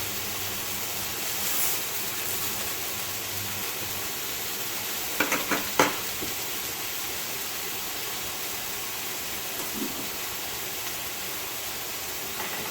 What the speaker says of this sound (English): We are going to leave them cooking in the sauce for a while